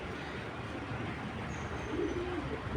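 A young racing pigeon from a club-ringed 2024 clutch, not yet raced, coos softly at close range amid a steady bed of background noise.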